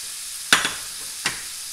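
Thinly sliced pork hits a hot pan and gets stirred, giving a sharp sizzling scrape followed by a second stir stroke a moment later, with a soft frying hiss between them.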